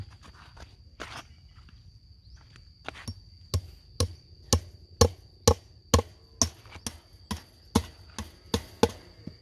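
Repeated hammer blows drive in nails, sharp and close, starting sparse and then falling into a steady, regular rhythm of about two strikes per second, with no voices.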